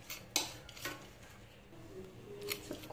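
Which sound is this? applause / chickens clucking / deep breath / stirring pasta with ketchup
stirring pasta with ketchup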